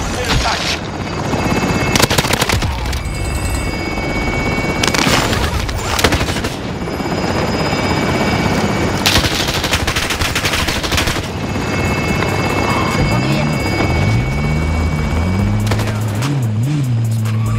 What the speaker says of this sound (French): Hélico en position.